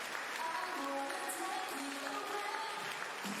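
Arena crowd applauding and clapping along at the indoor International Jump Meeting in Cottbus, a steady dense wash of claps under faint music, with a voice briefly audible.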